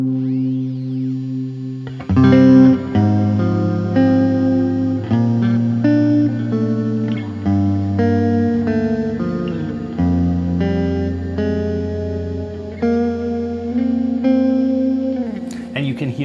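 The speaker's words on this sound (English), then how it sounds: "And now I can add some saturation." Electric guitar passed through an ambient pedalboard with saturation switched on, a slow sequence of sustained, gritty chords and notes ringing with a soft trail and light background hiss, played alone.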